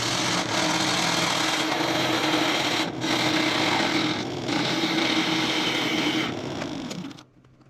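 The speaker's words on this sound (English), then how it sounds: "I'll probably re-sand it as well." Sandpaper held against a resin lidded box spinning on a woodturning lathe, a steady loud rasping hum with the motor's drone underneath, running continuously before cutting off near the end.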